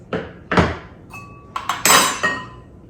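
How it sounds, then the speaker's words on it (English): Pheasant eggs being cracked into a dish: a few sharp clinks and taps of shell against the rim, then brighter glassy knocks and a short rattle, close and clear with no talking. "Here are the pheasant eggs. Let's break those."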